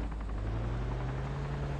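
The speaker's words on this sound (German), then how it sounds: "Heli rechts von uns" Helicopter flying nearby in the video game DayZ Epoch, a steady droning engine hum with a low rotor throb, continuous and even throughout with no talking.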